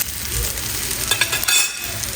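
Whole spices roast in a hot pan for a spicy mutton masala, a close, bright sizzle broken by scraping stirs and a few sharper clinks.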